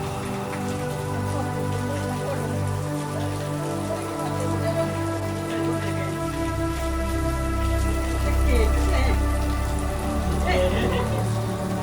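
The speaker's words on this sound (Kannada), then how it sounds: "ಅಷ್ಟೊತ್ತಿಗೆ ಜೋರಾಗಿ ಮಳೆ ಕೂಡ ಬಂತು." Heavy rain pours down on a home courtyard in India during Diwali. It makes a steady, dense hiss that barely changes for the whole stretch, with a low hum underneath and no clear talking.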